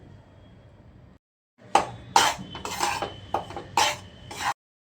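Wheat flour roasting in ghee is scraped and stirred in a metal pan, giving several loud clanking scrapes after a quiet start, with no talk.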